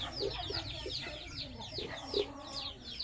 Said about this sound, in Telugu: ఇప్పుడు ఒక మూడు పుంజులు సేల్స్ కోసం పెడుతున్నాను